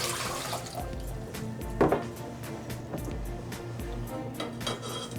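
Water runs from a tap into a pot in a kitchen to start candied orange peel, a steady trickle with clinks of cookware and a short louder splash partway through.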